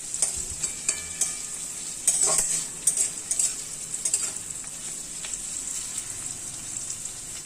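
Onion, cumin, bay leaf and spices frying in a kadai (wok-style pan) for a Bengali-style country chicken curry, a steady sizzle under repeated scraping and clinking stirs from a metal spoon, close and without talk.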